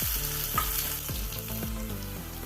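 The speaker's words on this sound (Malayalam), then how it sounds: "കടുക് പൊട്ടിക്കഴിയുമ്പോൾ ചെറിയ ഉള്ളി വട്ടത്തിൽ അരിഞ്ഞത് ഇട്ട് കൊടുക്കാം" Close, crackling sizzle of sliced shallots frying in coconut oil with mustard seeds, steady throughout, with a few sharp pops and spatters standing out.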